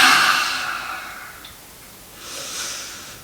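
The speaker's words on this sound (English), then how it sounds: "You can stick your tongue out and breathe it out." Two forceful, breathy exhalations made with the tongue stuck out, close and airy, the first long and fading, the second shorter after a pause.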